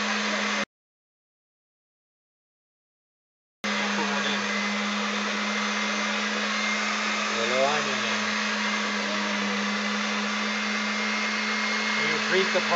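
Electric meat grinder motor whirring steadily as it grinds meat and onion for ham loaf, a constant close hum that drops out briefly near the start and then runs on without talk.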